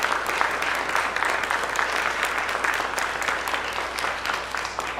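A church congregation at Sunday worship in Kaohsiung applauds its deacons, with steady, full-room clapping that runs for about five seconds without talk.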